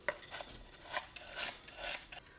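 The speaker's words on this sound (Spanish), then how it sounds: "ahora es momento de echar el arroz" Washed rice, three cups' worth, poured into a cooking pot for Cuban yellow rice with chicken, giving a sequence of soft grainy rattling bursts against the pot, close and fairly quiet.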